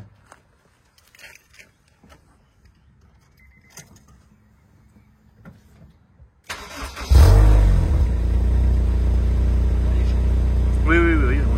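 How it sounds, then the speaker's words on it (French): A Honda car engine cranks and catches after quiet voices and jangling keys, then settles into a loud, steady exhaust rumble at idle, heard close. "peux-tu me démarrer pour voir le son de l'échappement"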